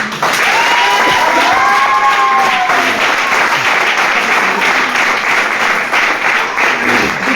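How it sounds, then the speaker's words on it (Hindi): A large crowd at a direct-selling motivational event breaks into loud, vigorous applause mixed with some cheering, a continuous wall of claps while a voice is briefly heard over it. "तो देखो इस सर के लिए तो पहले जबरदस्त ताली।"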